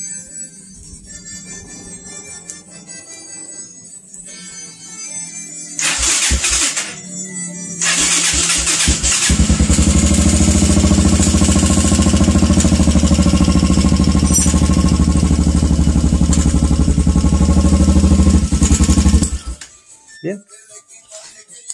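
A motorcycle engine, wired with a simplified electrical system and battery, cranks and catches around six seconds in, then runs loudly and steadily for about ten seconds before shutting off, with brief talk early on.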